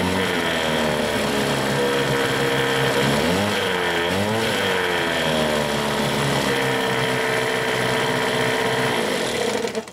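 An Evinrude 6 hp outboard motor runs wide open out of gear, a loud, steady buzzing drone close by that wavers briefly in pitch midway before settling back to a constant whine.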